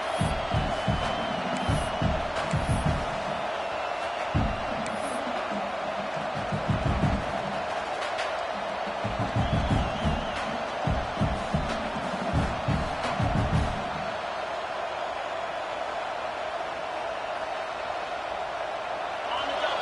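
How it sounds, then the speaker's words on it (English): A home crowd at a football game in a video game cheers and whoops, a steady roar of noise under a commentator's voice, with bursts of louder shouting. "this home crowd is fired up and ready to make a difference today"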